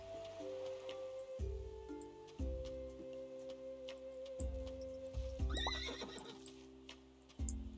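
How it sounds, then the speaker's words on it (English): A horse in the farming game Roots of Pacha neighs with a whinny near the middle, set against steady game music with soft clip-clop and ticking effects. "I need to talk to the gold horse."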